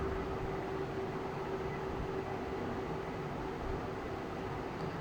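Water spinach with shrimp fries in a pan, a steady, loud sizzling hiss that runs without a break and has no talking over it.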